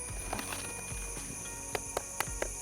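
Several sharp knocks on the hard, hollow-sounding shell of a ripe durian, its flesh loose inside the husk, spaced irregularly, close by, over a steady background hum.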